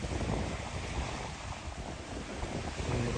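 Wind buffets the microphone over a steady wash of sea waves on the coast at Sitio Bingig, Mansalay, Oriental Mindoro, a faint continuous roar with no distinct breaking waves.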